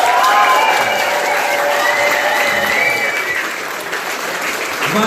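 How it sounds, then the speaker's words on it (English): A comedy club audience in St. Louis claps loudly and continuously for a comedian, a dense close wash of applause that eases slightly toward the end, with a few cheers mixed in. "Go ahead and give him a round of applause."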